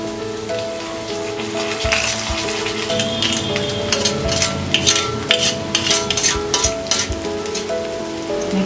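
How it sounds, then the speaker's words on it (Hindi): Washed, soaked poha is stirred in a hot pan with tempering, giving a patter of soft crackles, sizzles and light clinks of the spoon against the pan, close and steady. "मिक्स कर देते हैं।"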